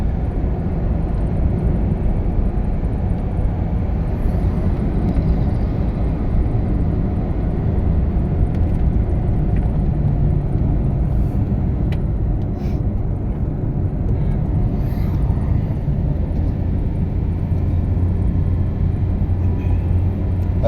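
A car cruising at 40 on the M2 motorway gives a steady, unbroken road and engine rumble for the whole stretch, with no voices.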